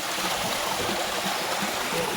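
Water flows in a steady, continuous rush from the stream at a temple in the forested hills near Kadambur, Sathyamangalam, close and unbroken with no voices.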